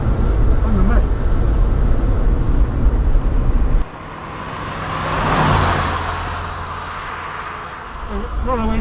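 A Mk2 VW Golf Rallye drives along country roads in South Warwickshire, its engine and road rumble loud from inside the cabin, easing off partway and then building again, with people talking over it.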